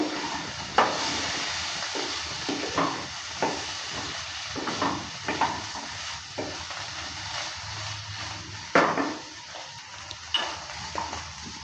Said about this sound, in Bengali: ঢাকনাটা এবার তুলে নিচ্ছি ঢাকনাটা তুলে নেওয়ার পর নেড়ে চেড়ে নিচ্ছে